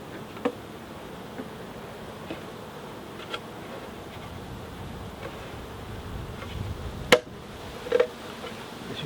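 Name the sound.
honey bees buzzing at a syrup feeder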